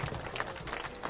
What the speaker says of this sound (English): So please give him a massive round of applause.